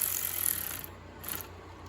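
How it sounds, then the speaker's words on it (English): A hand ratchet tightens the spark plugs on a 2015–2019 Ford Explorer. Its pawl makes a close, rapid clicking that runs steadily for about two seconds with no talk over it. "Once they're in, we'll just run it down with our ratchet"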